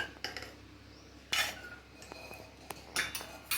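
Boiled chana dal is spooned from a pot into a bowl: a few sharp metal clinks and scrapes of utensil on vessel, sparse and quiet, with soft gaps between them.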